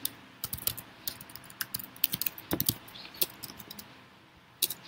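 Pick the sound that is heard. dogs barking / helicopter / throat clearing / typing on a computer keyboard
typing on a computer keyboard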